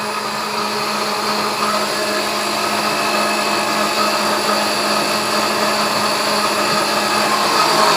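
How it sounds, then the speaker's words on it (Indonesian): An Angel blender whirs loudly and steadily while pureeing potatoes for Korean-style pentol meatballs. The motor drones without a break for the whole stretch, close up, with no talking. "Jadi itu di blender sampai halus. Ini kentangnya nih di blender."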